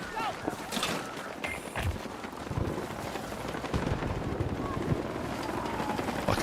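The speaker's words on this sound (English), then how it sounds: "Fucking helicopter, dude." A helicopter flies over a chaotic video game battlefield, its dense rotor and engine roar steady and loud throughout, blended with gunfire-like crackle and other game noise, while players talk over it.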